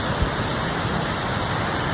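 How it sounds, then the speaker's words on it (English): Tumalo Falls, a double-tiered waterfall near Bend, Oregon, gives a steady, dense roar of falling water that stays close and even for the whole stretch, with no voices. "So we just got to this waterfall right here."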